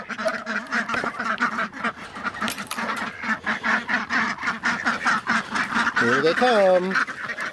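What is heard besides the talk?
ducks quacking as they are let out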